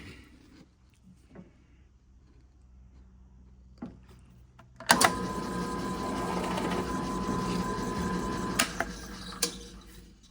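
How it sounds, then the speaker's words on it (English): A drill bores a clearance hole for a motor mount on a dry shaker table build: quiet handling at first, then a sudden steady whirring drone for about five seconds with a couple of sharp clicks, close and loud. "Now I'm going to make the clearance hole for the motor."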